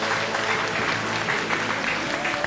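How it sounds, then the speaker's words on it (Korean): A theatre audience applauds the director after a comic traditional Korean music performance, giving continuous, full clapping throughout, fairly loud and close, with no voices on top. "박수 보내주시기 바랍니다"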